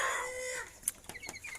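Village chickens in a crowded coop, a quick burst of clucking and a short crow-like call followed by scattered faint cheeps and clucks, fairly quiet and close.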